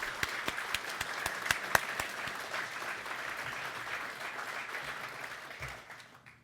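A room of people applauds at a Martin Luther King Jr. essay contest ceremony, giving dense, steady clapping with a few sharper claps early on that gradually fades out by the end.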